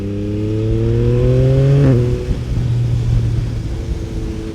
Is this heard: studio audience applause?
no